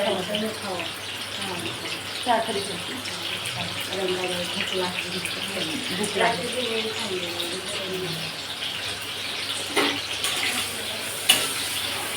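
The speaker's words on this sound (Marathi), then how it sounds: "इकडं पाणी टाकले" Water poured out in a home kitchen during breakfast preparation, a continuous wash of splashing running beneath voices that talk over most of the stretch.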